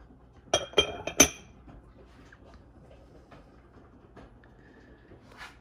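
Glass candy dishes with lids clink together three times in quick succession as they are handled, sharp and close, followed by a quiet room with faint small knocks.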